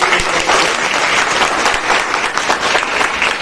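An audience breaks into loud, sustained applause, many hands clapping densely and evenly from start to finish.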